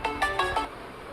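An incoming phone call rings as four quick electronic tone pulses in a rapid even sequence, clear and close, then stops into quiet.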